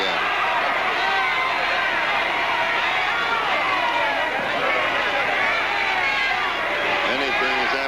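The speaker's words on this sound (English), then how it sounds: "the fans are booing again" Wrestling fans at a 1951 NWA Los Angeles match, a dense, constant crowd roar of booing and shouting that fills the whole stretch, loud and unbroken, with a commentator's voice talking over it.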